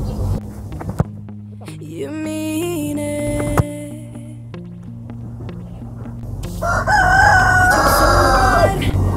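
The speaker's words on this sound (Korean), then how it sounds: "꼬꼬댁도 울고 아주 좋아요" A rooster crows loudly nearby, a long rising and falling call over a steady mechanical hum, followed by a burst of busier noise.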